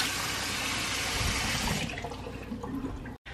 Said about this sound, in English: I'm gonna put water in the bottom.